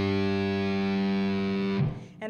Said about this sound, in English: Then if I want, I can add on the distortion.